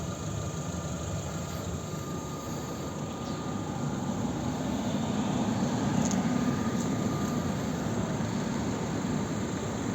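A 2010 Opel Zafira facelift with a 1.8 MPI petrol engine and manual gearbox idles smoothly and quietly, a steady low hum with no change in pitch throughout, heard close with no talking.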